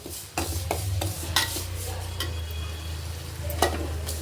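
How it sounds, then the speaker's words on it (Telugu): Tomatoes fry in a pan while a spoon stirs them, giving a steady sizzle under repeated scraping strokes, close and fairly loud, with no talk. "ఇప్పుడు టమోటాలు ఫ్రై అయ్యేమో చూద్దాం టమోటాలు కూడా ఫ్రై అయిపోయినాయి"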